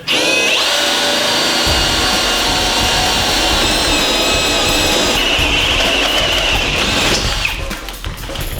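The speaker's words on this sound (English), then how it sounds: "Josh is just gonna use a little bit on the Milwaukee cordless drill here and show you how easy it is" A Milwaukee cordless drill whines loudly and continuously as it bites through a cheap, thin metal safe, its pitch shifting slightly near the end before winding down.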